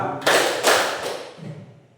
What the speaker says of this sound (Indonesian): Kalau Bapak nyebut tepuk tangan satu, baru tepuk tangan.